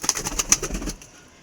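A pigeon offered for sale coos close by in a quick series of soft throaty pulses lasting under a second, then stops, with no talking.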